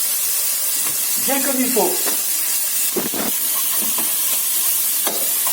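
Artichokes browning in a pan, a constant loud hiss and sizzle of frying with occasional stirring sounds, while a voice speaks briefly over it.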